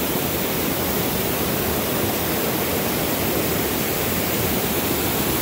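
Nahulugan Falls pours in a constant, loud broadband rush of falling water, steady and unbroken throughout with no voices.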